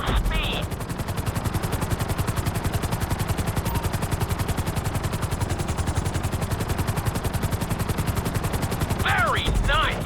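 A helicopter in the video game Grand Theft Auto V flies with a loud, steady rotor chop that thuds rapidly and evenly throughout, with brief game sounds near the start and end.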